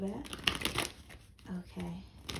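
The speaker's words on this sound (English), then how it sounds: "So I'm just gonna have to like shuffle these, mix the cards up a little bit." A deck of tarot cards is shuffled by hand in a quick, papery riffling and rustling burst, with a voice speaking briefly over part of it.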